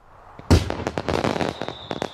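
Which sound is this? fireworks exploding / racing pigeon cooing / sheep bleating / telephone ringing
fireworks exploding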